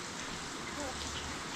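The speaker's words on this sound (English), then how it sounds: "Javian, Papa, it's raining." Steady rain falls over rural countryside, a soft continuous hiss of drops on surfaces, moderately close and even, with a faint voice briefly audible beneath it.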